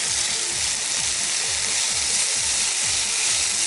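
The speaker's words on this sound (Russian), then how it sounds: "Начала жариться рыба" Herring frying in a pan, a loud, dense, continuous hiss of sizzling oil heard close up, with faint low repeated sounds underneath and no speech.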